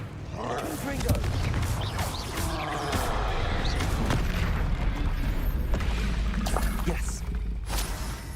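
Confringo blast spell cast in Hogwarts Legacy, a dense fiery roar with crackling bursts and low rumble that fills the whole stretch, with some game noise mixed in.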